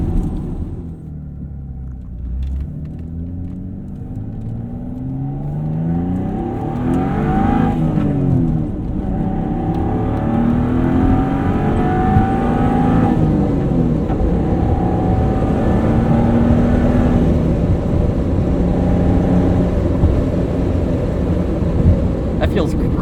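A 1992 Dodge Stealth RT Twin Turbo engine roars and climbs through the revs as it accelerates, a deep rising drone that stays loud and steady, with faint voices at times.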